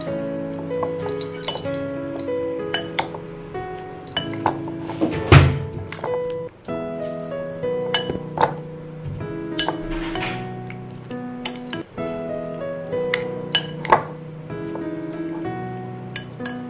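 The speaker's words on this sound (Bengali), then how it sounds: "এবারে এটা ভালোভাবে মিশিয়ে নিচ্ছি দইটার সাথে ফুলকপিটা।" A spoon clinks and taps against a bowl while cauliflower florets are stirred into a yogurt mixture, sounding as bright, irregular metallic chinks with dull thunks between them, close and clear with no talking.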